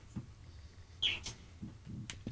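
A pet bird gives a single bright, close chirp amid quiet room noise and a few soft knocks, with no talking.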